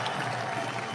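An audience at a presidential address to the diaspora in Belgium claps in a dense, steady wash of applause, continuous throughout the short stretch with no gaps.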